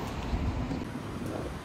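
Wind buffets a microphone on a street during a typhoon, a steady broadband rush with low gusting rumble that swells and eases without pause.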